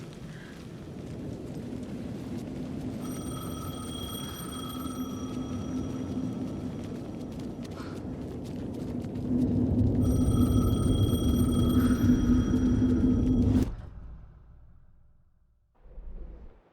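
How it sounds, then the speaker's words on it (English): A payphone rings in Alan Wake 2 with repeated electronic trills in two bursts over a low rumbling ambience, then falls quiet before a short thud at the end. "The payphone was ringing."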